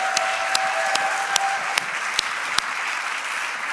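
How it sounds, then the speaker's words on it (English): Congregation applauding in a church service, a dense field of hand clapping with a few sharp, regularly spaced claps punching through, continuous and fairly loud from start to finish. "Come on, give him a great big hand clap."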